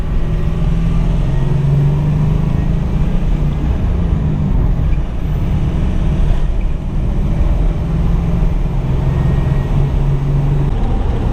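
Steady, loud engine roar from a lifted stick-shift truck pulling around a corner, a constant low rumble heard from inside the cab with road noise and no clear gear changes.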